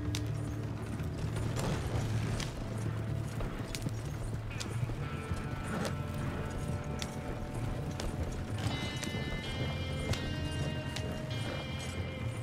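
Horses in the Red Dead Online video game clip-clop steadily through the whole stretch, hooves thudding under layered game music and mechanical creaks, with no voices over them.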